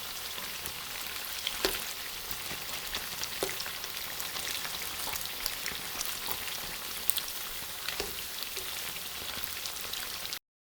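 Sabudana vada, tapioca pearl fritters, frying in hot oil, a continuous crackling sizzle with scattered pops and bubbling, steady and fairly close.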